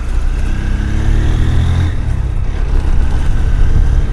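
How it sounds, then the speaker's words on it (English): Honda X Blade 160cc motorcycle running steadily at close range, its engine note shifting around the gear change with a brief dip and recovery in the loud, continuous drone. "Every time, as soon as the shift, it makes that shifting noise."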